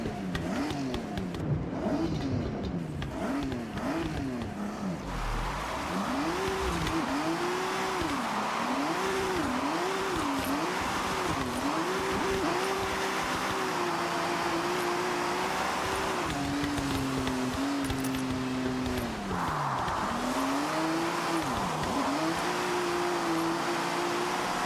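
A car engine in the driving game Forza Horizon 6, set in rain, revs loud and close, rising and falling in repeated surges through shifts with occasional tire squeal, and no talk over it.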